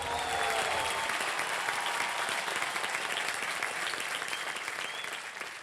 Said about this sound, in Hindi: बहुत जोरदार तालियां इनके लिए।